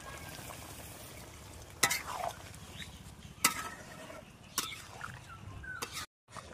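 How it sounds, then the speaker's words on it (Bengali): Meat curry (mangsho kosha) fries in a pan with a soft sizzle running underneath. A spoon scrapes and stirs it in a few sharp, separate strokes. "মাংসটা আমার খুব ভালোভাবে কষানো হয়ে গেছে"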